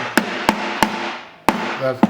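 A small hammer with a backer taps five times at uneven intervals while fitting an ice cream freezer band, sharp close knocks with a brief ringing tone after each strike.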